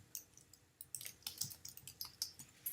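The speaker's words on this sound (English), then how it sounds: "So you type in your title for whatever you want." Rapid, close typing on a computer keyboard while entering a blog post title, a steady run of crisp clicky keystrokes with short pauses, quiet and alone.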